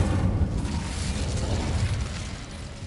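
A roaring burst of flame from the Incendio fire spell in Hogwarts Legacy, a loud continuous whooshing blaze that holds steady for a couple of seconds before easing off slightly.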